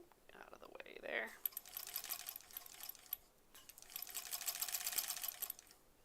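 A sewing machine chain-pieces small quilt blocks of fabric for a Metropolis sampler block, stitching in two long, steady whirring runs separated by a short pause, close and clear, with faint talk underneath.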